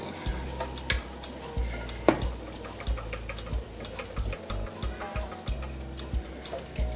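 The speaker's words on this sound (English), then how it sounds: "You see the bubble in that oil, then you pour" Oil sizzles and crackles in a pot as Nigerian beef stew is poured in, a steady bubbling hiss punctuated by regular soft ticking knocks.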